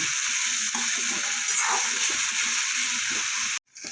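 Onions sizzle in hot oil in a pan for a spicy cauliflower curry, giving a steady, close hiss that cuts off abruptly near the end.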